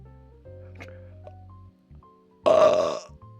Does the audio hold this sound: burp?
yes